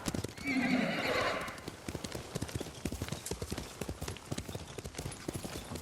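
A horse whinnies loudly, then its hooves gallop in a fast, steady clip-clop rhythm in the video game Ghost of Tsushima, close and clear.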